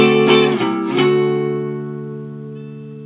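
A guitar chord is strummed a few quick times, then rings out sustained and slowly fades, loud and close with no voices.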